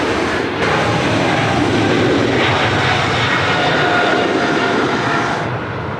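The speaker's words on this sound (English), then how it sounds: "Oh, lovely long takeoff roll." An airliner on its takeoff roll at Sydney Airport, a loud, sustained engine roar with a broad rushing hiss that stays steady and fills the whole clip, heard alone without talking.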